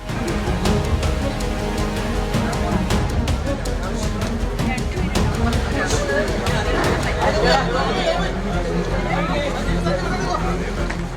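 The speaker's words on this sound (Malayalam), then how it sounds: "പ്രതിയെ കോടതിയിൽ ഹാജരാക്കുമ്പോഴും പിന്നീട് ജയിലിലെത്തിക്കുമ്പോഴും വലിയ ജനക്കൂട്ടം ആക്രോശവുമായി ഇരമ്പിയെത്തി" A large crowd shouts and jeers as a double-murder accused is brought to court and then taken to jail in Nenmara, a dense, steady roar of voices with a narrator talking over it.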